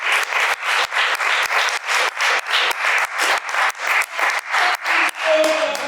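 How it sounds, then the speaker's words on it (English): A conference audience at a music industry event applauds a panel with loud, rhythmic clapping in regular synchronized bursts, close and sustained, a faint voice appearing near the end. "Big round of applause."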